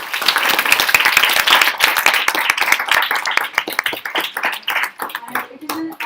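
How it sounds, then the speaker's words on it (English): An audience at a Model United Nations gathering held by the Narayana Group of Education claps for the participants: dense, loud hand clapping that keeps going for several seconds, then thins into scattered claps near the end. "So clap for yourself."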